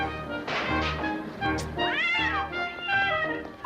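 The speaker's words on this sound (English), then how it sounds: "Look at that mangy cat." A mangy cat meows repeatedly, drawn-out and plaintive, with several wavering cries close by and no talking.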